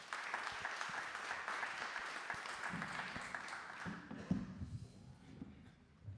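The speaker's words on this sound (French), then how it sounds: "On peut les applaudir." An audience applauds in a steady patter of clapping that fades out toward the end, at moderate distance.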